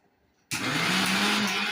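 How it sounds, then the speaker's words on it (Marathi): A kitchen mixer grinder starts abruptly after a brief quiet moment and whirs loudly and steadily while grinding spinach, garlic and a piece of green chili, a dense high-speed motor roar with no talk. "आता हे आपण मिक्सर मध्ये बारीक करून घेणार."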